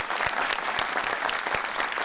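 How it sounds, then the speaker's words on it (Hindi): A television studio audience at a talk show claps steadily, with dense applause and a few sharper individual claps standing out, close and lively. "तालियां।"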